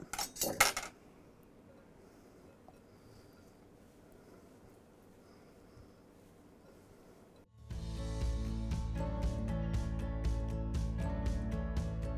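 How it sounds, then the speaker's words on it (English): Browned breakfast sausage and cream cheese being mixed in a bowl with a meat chopper, giving quick bursts of scraping and clinking early on, then a steady louder scraping and mashing rhythm through the second half. "I'm going to mix it."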